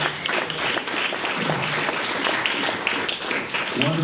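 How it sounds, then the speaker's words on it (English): A lecture audience gives a steady, dense round of applause that holds at an even level throughout, moderately loud and close. "Let's give Don Phillips a big round of applause"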